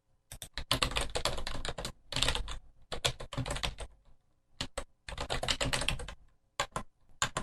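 An email address being typed on a computer keyboard: quick runs of crisp, close keystrokes in clustered bursts separated by short pauses, with no voices.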